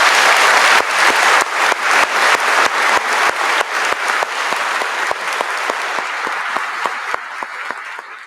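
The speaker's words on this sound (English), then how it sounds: "I think that deserves another round of applause." Another round of applause sweeps through the hall at a University of Reading summer graduation ceremony, dense crowd clapping with a few sharp nearby claps standing out, slowly thinning toward the end.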